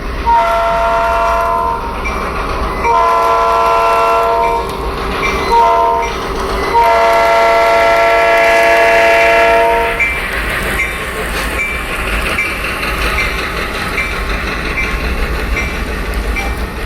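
A model railroad locomotive runs along its layout, sounding a loud sustained multi-tone horn in several blasts over a steady rolling rumble that carries on after the horn stops.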